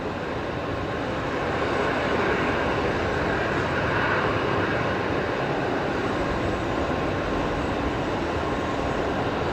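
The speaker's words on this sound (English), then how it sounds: "Qantas Link 1936 coming in next. It's an Embraer 190 from Adelaide tonight, here on runway left." An Embraer 190 airliner touching down on the left runway at Brisbane Airport at night, heard as a steady, loud broadband roar of engines and rushing air that swells slightly and holds throughout, with no voices.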